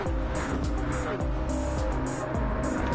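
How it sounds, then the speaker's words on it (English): Engines of Le Mans hypercars in a sim racing game whine and rise in pitch, with repeated upshifts and a car passing close and loud, over a continuous bed of race engine noise. "There's another hypercar incoming."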